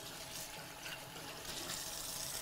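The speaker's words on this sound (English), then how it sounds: "Simply run it under warm water." Warm tap water runs over a coffee micron filter during rinsing, giving a steady bright splashing stream that continues without a break and swells slightly louder toward the end, with no talking.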